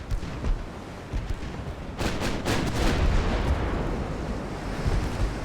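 Warship guns firing in the Ultimate Admiral: Dreadnoughts naval battle game, with a heavy broadband boom around the middle that rolls on into a sustained roar of gunfire and sea noise, loud and without voices.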